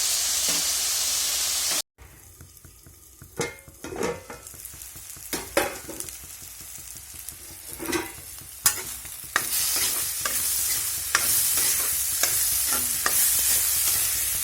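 Dhekia fern greens stir-fried in a pan sizzle steadily with a hiss, while repeated scraping and tapping strokes from stirring come through close and clear, broken by a brief dropout near the start.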